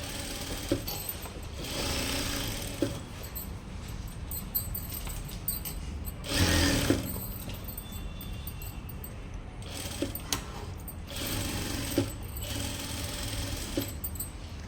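A sewing machine runs close by, stitching a lining blouse in steady whirring bursts with short pauses and a few clicks between runs, at moderate loudness with no speech.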